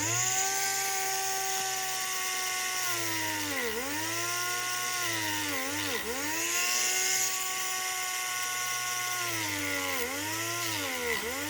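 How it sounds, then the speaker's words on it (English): A pencil grinder spins a sanding drum to deburr air-cooled VW lifters, giving a steady high-pitched whine with brief dips in pitch as the tool bites into the metal, close and continuous with no talking. "we're going to take a sanding drum on the pencil grinder, and we're just going to go through and deburr them real quick"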